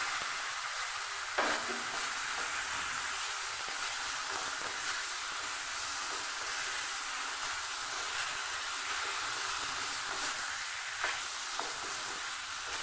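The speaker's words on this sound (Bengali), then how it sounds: "মশলাটা কষানো হয়ে গেছে। এবার আমি এর মধ্যে ভেজে রাখা ওলগুলো দিয়ে দেবো" Fried yam pieces tossed into cooked-down spice paste for a katla fish curry, a continuous even sizzle with occasional stirring clinks, steady and fairly close, no talking.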